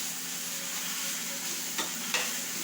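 Scrambled egg with vegetables sizzles in a frying pan as it is stirred back and forth, giving a constant hiss with two sharp scraping clicks near the end.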